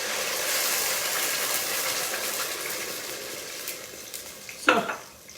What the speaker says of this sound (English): the garlic was just getting golden, so that's when I put the tomatoes in